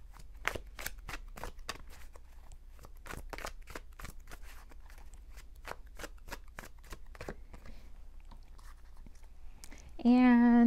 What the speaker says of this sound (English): let me go ahead and shuffle these cards